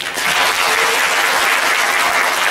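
Dense, steady applause from a large audience of new university students at a campus book forum, welcoming a guest speaker, loud and continuous throughout with no talking over it.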